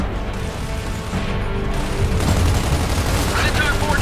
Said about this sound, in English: We're still under heavy fire from our left flank!